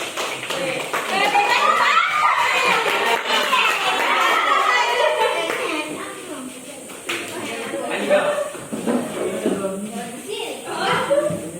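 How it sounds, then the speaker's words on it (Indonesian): Children in a classroom clap for classmates, a burst of busy clapping mixed with chatter and kids' voices, fading and returning in scattered bursts. "Berikan tepuk tangan untuk Adel dan Ririn."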